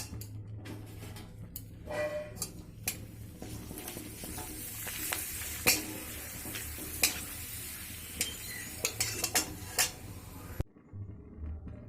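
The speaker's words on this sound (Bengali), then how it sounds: "একইভাবে আমি সব পাঁপড়গুলো ভেজে নেব, ভেজে একটা পাত্রে তুলে নেব।" Papad fries in hot oil, with a soft continuous sizzle broken by scattered clinks and taps of a utensil against the pan, close and fairly quiet, then cut off near the end.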